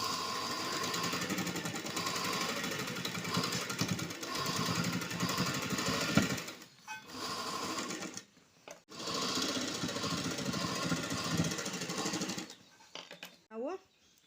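A sewing machine stitches a blouse in steady, loud buzzing runs that stop briefly twice, with a voice speaking over the whirring.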